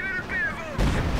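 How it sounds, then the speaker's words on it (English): A rocket strike in the Company of Heroes 2 strategy game lands with a rising then falling whistle, followed by a sudden broad rumbling burst of explosions, loud and close. "Rocket strike."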